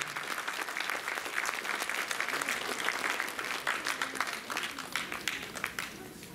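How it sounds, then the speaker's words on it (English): Warm round of audience applause at a Sai Dham Canada anniversary celebration, steady clapping from a crowd with faint voices mixed in, thinning toward the end. "I would request all of you to please give them a big round of applause."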